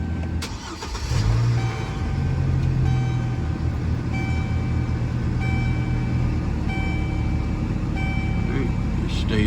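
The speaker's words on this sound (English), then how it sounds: "See if it comes on when I start the truck." A 2005 Chevy Colorado truck engine cranks and starts, then settles into a steady, close idle hum with a faint repeating chime over it; the truck has an engine light fault that stays on.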